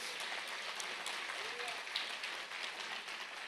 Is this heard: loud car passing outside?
no